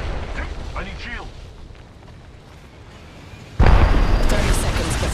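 A grenade explosion in the Apex Legends video game lands as a sudden loud, broad boom partway through, following quieter game sounds and a voice calling out.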